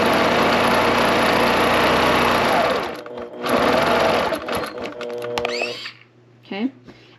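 A sewing machine stitches a quilt guided by a ruler, running loud and fast for about three seconds, then starting and stopping in shorter bursts with clicks and mechanical whirs.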